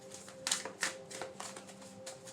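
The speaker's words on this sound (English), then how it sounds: "Let me shuffle these." Quiet riffling and soft slaps of tarot cards being shuffled by hand in short bursts, close by, over a faint steady electrical hum.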